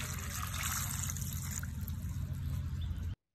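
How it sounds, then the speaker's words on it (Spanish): Water pours steadily from a container over dried chiles to soak them, a continuous splashing trickle that runs for about three seconds and then cuts off abruptly. "Lo vamos a poner a remojar con un litro de agua."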